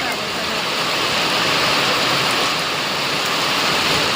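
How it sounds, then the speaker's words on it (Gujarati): Heavy rain pelting tin roof sheets, a dense, continuous hiss and patter at a steady loud level, unbroken by voices and filling the whole clip. "છાંટા બહુ પડે ને વરસાદના પતરા પર એટલે ખખડે બહુ"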